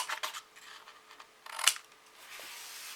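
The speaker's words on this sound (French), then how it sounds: "Là, on va couper jusqu'au trait." Scissors cut along a marked line through craft material for a small one-piece box, making a few soft, close snips and rustles, with one sharper click midway and quiet between.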